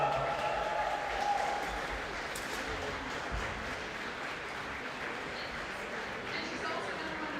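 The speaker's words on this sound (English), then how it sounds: "An applause, please" Applause at a longsword and sabre fencing tournament prize ceremony, a steady broad patter of clapping from a modest crowd lasting several seconds, with voices mixed in.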